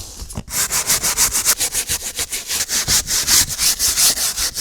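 A brush scrubs shampoo into a car seat, making rapid rhythmic back-and-forth scratchy strokes, loud and close, about five per second.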